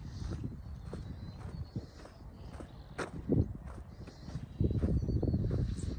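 A cow's hooves clop and thud on the ground as it walks toward a backyard, several irregular steps at moderate distance with faint rustling between.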